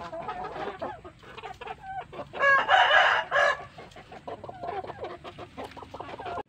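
Bangkok gamecocks, a breed of rooster, cluck and call near the microphone, with one loud crow in the middle rising above the scratchy farmyard chatter.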